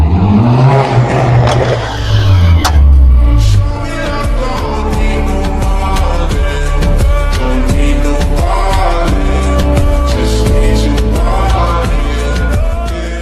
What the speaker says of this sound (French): Vous avez déjà mis une voiture de rallye sur la route?